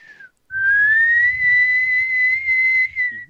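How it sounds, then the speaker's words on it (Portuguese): A person whistles a long, steady, clear tone that bends slightly upward and holds, with a short note before it and quiet rumble underneath. "eu sei assobiar e até posso mostrar"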